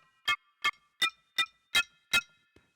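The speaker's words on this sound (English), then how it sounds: "And next, we've got ringtone bells too." iPhone 'Bells' ringtone: six bright, evenly spaced chime strikes of the same single note, about a third of a second apart, followed by a faint seventh tap, clear and alone.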